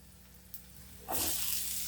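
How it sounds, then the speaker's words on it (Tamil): Onions and chopped capsicum for an egg side dish sizzle in a pan, a quiet low simmer that suddenly swells into a loud, bright hiss as the peppers go in. "வெங்காயம் வதங்கட்டும் அப்படியே ஒரு அஞ்சு நிமிஷம்"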